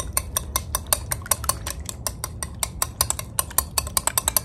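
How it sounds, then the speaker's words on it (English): Face mask ingredients whisked in a bowl, likely a spoon or whisk knocking the sides in a rapid, steady clatter of sharp clicks, close and dry, with no one talking. "So I'm just gonna just mix it very well."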